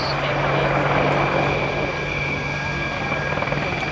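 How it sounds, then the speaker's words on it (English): An Apache attack helicopter with twin engines hovering at an air show, a loud steady rotor and turbine roar with a sustained whine, holding near and constant throughout. "you can see the helicopter's amazing hover performance"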